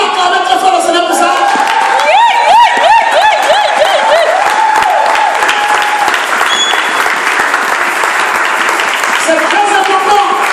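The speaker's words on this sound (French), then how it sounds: "Est-ce qu'on peut acclamer très fort le Seigneur pour ça?" A church congregation applauds loudly, a dense sustained roar of clapping with music playing beneath it throughout.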